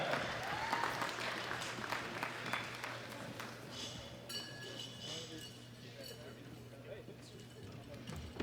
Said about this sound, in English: a big round of applause for Eddie Berglund.